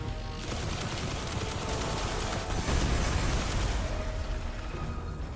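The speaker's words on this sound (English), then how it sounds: "that grenade doing all of its work very nicely" Heavy, sustained gunfire-like din from a Destiny firefight during a solo Nightfall strike, with a grenade's blast adding a dense rumbling burst amid continuous loud action that swells around the middle and then eases off.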